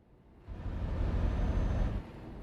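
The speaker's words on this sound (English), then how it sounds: "Love the sound of these brakes." A short hiss-and-thump burst from a truck's air brakes in Euro Truck Simulator 2, rising suddenly over a quiet engine hum, holding about a second and a half, then dropping back to the idle drone.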